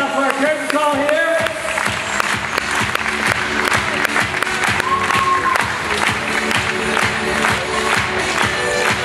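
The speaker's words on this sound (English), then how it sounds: "Let's give all our groups another round of applause" A large audience applauds and cheers for gymnastics teams at a curtain call, loud and continuous dense clapping with crowd shouts and music playing underneath throughout.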